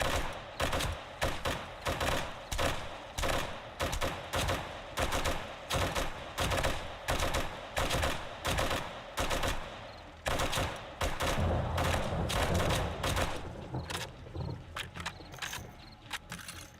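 M60 machine gun fire in the zombie survival game 7 Days to Die, firing in rapid repeated bursts with short gaps, loud and close, before tapering into quieter mechanical clatter near the end.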